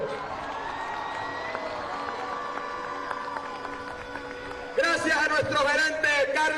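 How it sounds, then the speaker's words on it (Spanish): At a presidential campaign event in Colombia, a crowd suddenly bursts into applause and cheering near the end, after a stretch of amplified speech over a quieter room. "Un aplauso para ellos."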